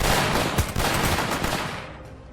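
Rapid gunfire bursts in the Northend Tower Defense video game, dense overlapping shots like a fusillade, loud and close and fading slightly at the end.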